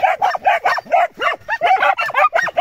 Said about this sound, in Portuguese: Os cachorros estão aí, ó.